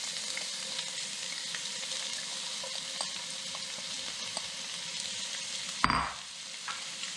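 Onions sizzle steadily in hot oil in a saute pan, a continuous crackling hiss with scattered small pops, broken near the end by a sudden louder burst as more goes into the pan, then settling back down.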